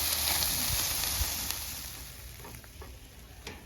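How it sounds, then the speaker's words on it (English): Steak quesadillas sizzle and crackle steadily in a hot pan, close and continuous with a bright hiss, occasional pops, and no talking. "this is sizzling good"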